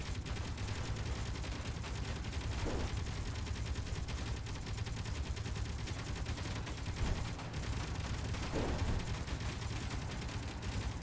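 Continuous sustained gunfire from ship weapons in the space game Space Engineers, a dense unbroken roar of rapid shots lasting throughout with a couple of louder bursts, no talking.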